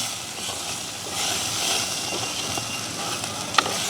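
Chopped tomatoes fry in a tinned fish curry, giving a steady, close sizzle and hiss with a soft stirring clink near the end.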